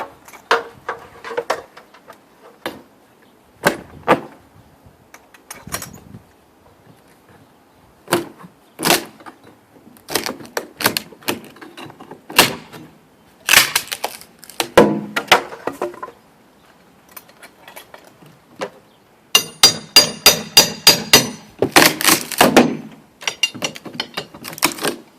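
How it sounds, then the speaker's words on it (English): Cedar top trim being pried off a bay window during installation, heard as a string of sharp wooden cracks, creaks and clicks, sparse at first, then a dense, loud cluster of snaps near the end, with no talking. "Now I've got to get that top trim off."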